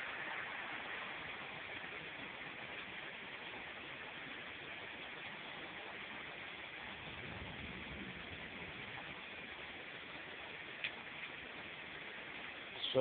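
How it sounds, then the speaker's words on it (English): Heavy rain falls steadily outdoors during a thunderstorm, a dense, constant hiss that stays even and close for the whole stretch with no talking over it. "Sure heavy rain out here today"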